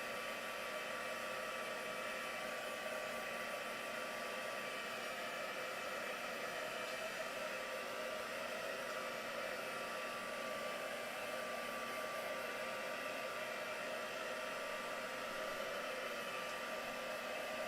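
A heat dryer blows steadily on a mixed media artwork, a continuous close whooshing whine with a constant hum that never varies in level throughout.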